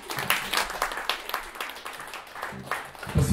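Audience applause after a band's live set at a concert venue, a steady patter of clapping from a small crowd, moderately loud and continuous with no voices over it.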